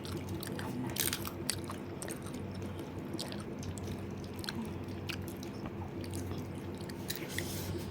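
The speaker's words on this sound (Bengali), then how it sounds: "দেখি খাই আমি ফুচকাটা" Someone bites into and chews a fuchka (pani puri) filled with spiced water and potato at an evening snack gathering, with close wet crunches and squishy chewing over steady background noise.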